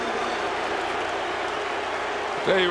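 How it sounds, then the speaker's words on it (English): Stadium crowd cheering at a 2004 Monday night NFL game, Broncos at Bengals, as a steady broad roar of fans fills the clip and swells slightly near the end. "the crowd saluting Rudy"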